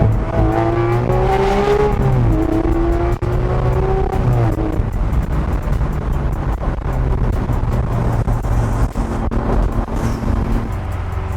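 A Lamborghini Aventador SV's V12 roars loud and close from inside the car, revving and pulling hard with rising pitch, a sharp gearbox change cutting the sweep before the engine drones on steadily.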